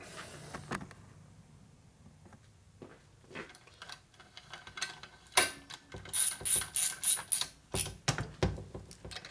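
A hand ratchet tightens engine case bolts on a 1997 Harley Evolution 80ci lower end, with a few scattered clicks, then a quick run of rhythmic ratcheting strokes close by, alone without talk.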